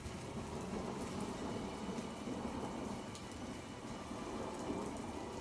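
Heavy monsoon rain lashes a flooded area of Mangaluru in Dakshina Kannada, Karnataka, a steady roaring downpour with thunder rumbling underneath the constant patter.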